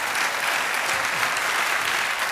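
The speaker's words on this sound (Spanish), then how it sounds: "Orbán termina su discurso y los asistentes lo aplauden." An audience claps steadily after a political speech in Hungary, dense, even applause at close range that holds loud throughout with no break.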